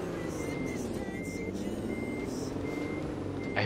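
A truck in German Truck Simulator backing up, its reversing alarm giving steady, evenly spaced beeps over a low engine rumble, moderately loud and close, with no talk.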